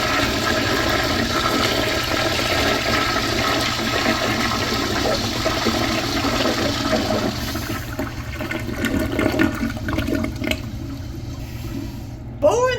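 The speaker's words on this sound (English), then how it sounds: "Now let's have a look at bowl rinse." A second-generation Crane Whirlton toilet flushing, with a loud continuous rush of bowl-rinse water that thins to a quieter trickle and refill near the end.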